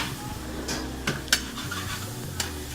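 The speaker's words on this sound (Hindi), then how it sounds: "बटर में प्याज डालकर इसको फ्राई कर रहे हैं।" Chopped onions fry in butter in a pan while being cooked for grilled fish steaks. A steady close sizzle runs throughout, broken by a few sharp utensil scrapes and clinks as the onions are stirred.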